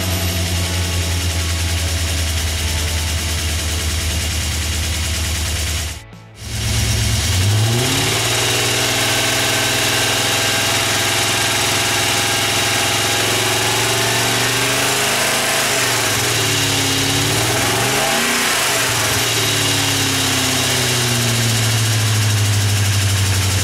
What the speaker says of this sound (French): On entend encore nettement un poussoir hydraulique qui n'est pas réamorcé et qui claque donc tant qu'il peut.